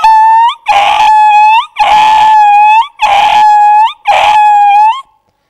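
A woman vocally imitates a big dog: five long, strained, howling bark-like cries in a slow rhythm, loud and close, alone without talk.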